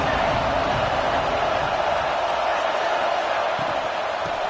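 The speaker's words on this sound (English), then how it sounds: "3rd down, and the crowd really getting into it" A football stadium crowd at an ACC Championship game against Tulane roars on third down, a dense, steady wash of cheering noise that stays loud and unbroken throughout.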